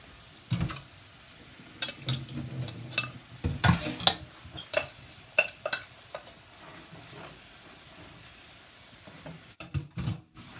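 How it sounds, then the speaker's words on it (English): Cooked noodles being stirred in a pan on the stove, with scattered scraping and clinking of a utensil against the pan in irregular bursts and a soft sizzle between them, close by and without talk. "And stir all of that up."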